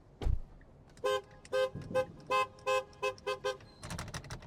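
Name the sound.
car horn honking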